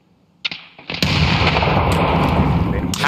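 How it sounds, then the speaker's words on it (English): In the Escape From Tarkov video game, a few sharp pops lead into a loud grenade blast whose roar and debris rumble fill the rest of the moment, close and dense. "I'm gonna toss a grenade."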